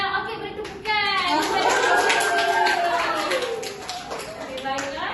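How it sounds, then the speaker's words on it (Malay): Pupils clap together in a classroom during a geography lesson, a steady patter of many hands, close and fairly loud, with children's voices and chatter mixed through it. "Ganjaran ni adalah okey, beri tepukan."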